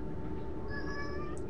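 A cat meows once in the video game Fahrenheit, a short, fairly faint, high cry rising over a steady low background hum.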